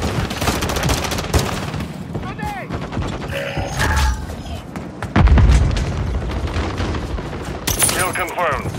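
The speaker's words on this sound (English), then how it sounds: "Grenade!" Rapid gunfire and a heavy grenade blast in the shooter game Call of Duty: a loud, booming explosion strikes midway through a steady stream of shots, with brief chirps and voices mixed in.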